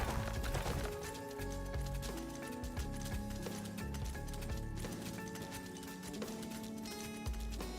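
Rapid hoofbeats of a running horse in Elder Scrolls Online patter steadily under game music and ambient sound.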